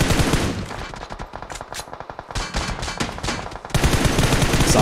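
Rapid automatic gunfire in the PUBG Mobile battle royale game during a women's tournament match, loud bursts of close shots with brief gaps, sputtering then resuming, with no talking.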